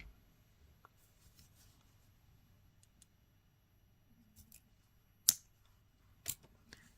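Wire cutters snipping off a small excess piece of jewelry wire while making little flower earrings: a few faint taps and handling clicks, then two sharp close snips a second apart.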